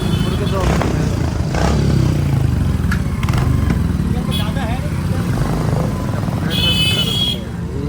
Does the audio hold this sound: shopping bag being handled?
no